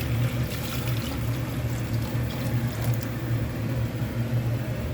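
Water is poured from one cooking pot into another in a kitchen, a continuous close gurgling splash with low rumbling resonance that runs steadily throughout without talk.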